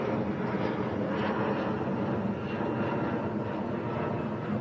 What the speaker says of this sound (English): Looks to me like British Airways that's just gone around